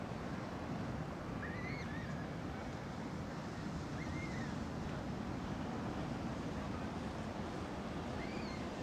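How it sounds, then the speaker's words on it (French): Ocean waves surge and wash continuously on a windy day, a dense roar of surf mixed with wind buffeting the microphone, with faint gull-like calls far off in the background. "Il y a énormément de vagues aujourd'hui."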